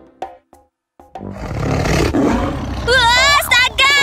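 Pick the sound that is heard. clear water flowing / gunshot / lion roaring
lion roaring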